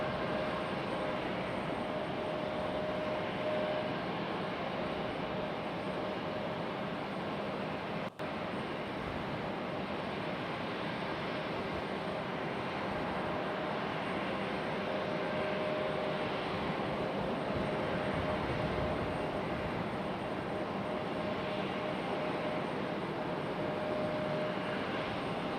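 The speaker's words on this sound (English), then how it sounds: "Letting that JetBlue A220 go by." A JetBlue Airbus A220 airliner rolls past at Raleigh-Durham International Airport, a steady broad engine roar that holds level throughout, heard from some distance with no talking.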